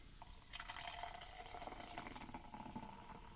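Vinegar liquid from a homemade erupting-volcano project is poured back into a cup. It makes a faint, quiet trickle and splash of liquid that runs for a few seconds.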